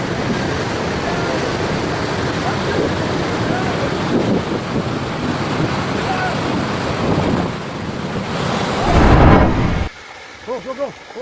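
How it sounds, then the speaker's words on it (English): Fast floodwater surges down a once-dry desert riverbed, a loud, steady roaring wash with gusty wind buffeting the microphone, swelling near the end before suddenly cutting to a quieter scene. "Watch as a dry desert riverbed suddenly fills with fast-moving water."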